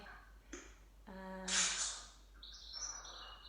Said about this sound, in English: Some lovely birds going on in the background there.